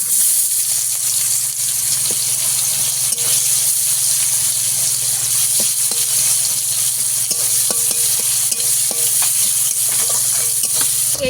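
Onions frying in oil with panch phoron make a loud, continuous sizzle up close, with occasional light scrapes and taps of a utensil stirring them.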